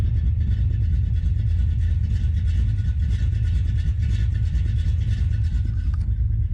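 A Plymouth Duster V8 with an aggressive cam runs close by, a loud, lumpy low rumble with a steady choppy lope throughout, briefly easing near the end.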